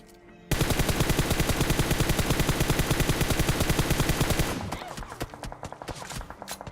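Rapid automatic gunfire in the video game PUBG, a long fast burst of loud sharp shots for several seconds, then quieter scattered shots trailing off.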